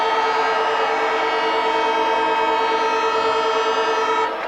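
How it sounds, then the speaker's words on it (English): A loud, sustained stadium siren ending a 1984 Australian football match wails continuously at a steady pitch, then cuts off near the end. "And on the siren, Paul Salmon takes his 12th mark for the match"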